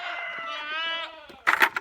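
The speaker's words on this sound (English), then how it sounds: "You goofy goats." A mother goat lets out one long, wavering bleat up close, followed by a burst of scuffling and clattering noises from the penned farm animals.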